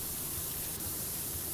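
A pressure washer sprays soap in PowerWash Simulator, a steady broad hiss of rushing water that holds evenly throughout, close and continuous with no talk.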